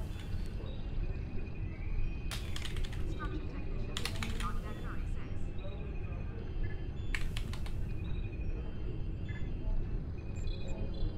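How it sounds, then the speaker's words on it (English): Bursts of rapid computer-keyboard typing, clustered in three short runs, sit over a steady low rumble of game background sound from a Star Trek Online session; no one speaks while the keys clatter. "Wow, that's a lot of typing."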